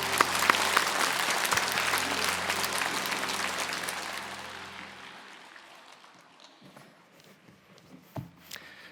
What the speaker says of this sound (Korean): 우리 축복의 박수 합시다